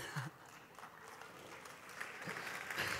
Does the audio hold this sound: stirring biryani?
no